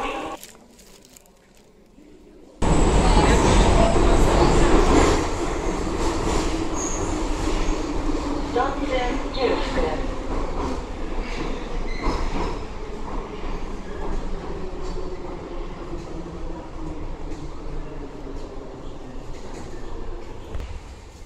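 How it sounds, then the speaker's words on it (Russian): A blue-carriage metro train in Samara pulls in loudly after a short quieter stretch, its wheels squealing and rumbling close by in a steady, sustained roar that slowly eases. "В общем, вот такое метро."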